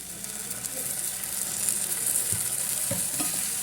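Vegetables sautéing in a pan with soy sauce and tomato sauce for lasagna, a steady low sizzle with occasional stirring scrapes and light clinks, close and even, with no talk.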